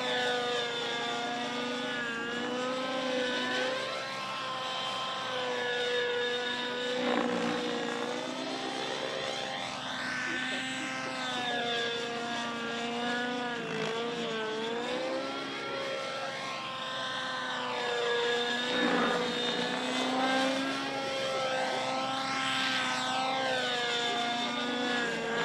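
A 3D competition model aircraft flies a rainbow roll in a championship set routine, its propeller engine droning steadily at a distance while the pitch sweeps up and down as it turns and passes, with no one talking over it.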